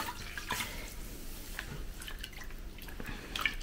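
Freshly dyed wool lifted out of its heating dish and left to drain, water dripping and trickling back into the dish in small irregular splashes, soft and close with no voices.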